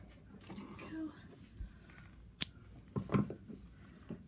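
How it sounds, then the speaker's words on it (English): Scissors snip the end of crochet yarn close to the microphone with one sharp click, then a few quieter metallic snips and handling rustles. Soft background noise runs underneath. "pull the end through it to cut your end. So I'm going to get some scissors to do that."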